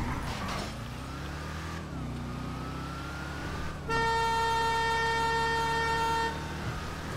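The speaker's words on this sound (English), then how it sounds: "I honked my horn at him." A loud, sustained car horn blares in the video game GTA V, starting midway and holding steady for a couple of seconds over a low engine rumble and ambient game noise.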